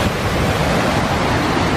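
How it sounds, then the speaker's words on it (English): Fast-flowing brown, iron-tinged water rushes and sprays near a reservoir in the Saddleworth hills, a dense, steady, close roar with no break. "the water there is creating some spray. Flowing very fast actually."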